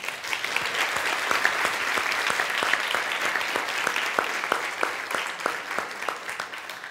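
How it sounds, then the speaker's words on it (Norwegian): Audience applause at a public meeting on the refugee crisis, a steady wash of many hands with individual sharp claps standing out, continuous for several seconds. "Og så synes jeg vi skal klappe for det."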